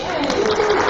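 A meetup audience gives a short burst of clapping at a funded programs showcase, a brief wash of hands clapping mixed with voices.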